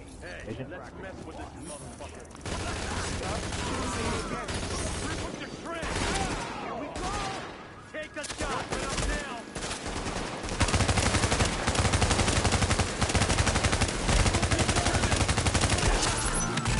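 Gunfire from a PP90 submachine gun in The Division, heard as repeated bursts over a dense, noisy game mix that grows louder toward the end, with talk over parts of it.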